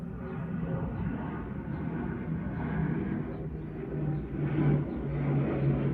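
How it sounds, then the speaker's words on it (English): An airplane passing overhead during a home hair-cutting session, a steady low broadband roar that swells slightly toward the end, moderately loud and continuous with no talk. "There's a plane flying over."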